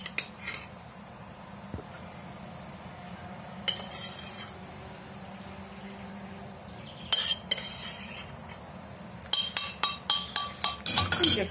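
A spoon stirs a yogurt and mayonnaise salad with purple cabbage in a bowl, making bursts of rapid clinking and scraping against the dish, quicker and denser toward the end.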